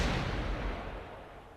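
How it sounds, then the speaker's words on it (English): A loud, sudden explosion in the Persona 4 Arena video game, a dense, booming burst with heavy low rumble that slowly trails off over a second and a half, with no voices. "Suddenly, there's an explosion so loud I think my eardrums are blown out."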